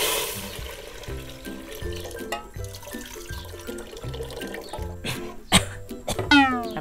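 Clean water is poured into a pot of sizzling curry paste for Thai curry noodle soup with canned fish, a short splashing pour near the end over steady background music.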